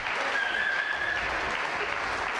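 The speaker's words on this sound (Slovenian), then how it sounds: "Dajmo še en zaploskamo." A concert audience claps in a short burst of dense, steady applause in a hall, moderately loud, with a brief whistle-like tone partway through.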